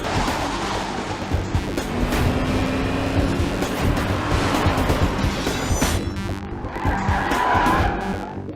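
A car speeds through a chase with tires skidding and squealing, a loud sustained roar of engine and screeching rubber that swells and fades near the end.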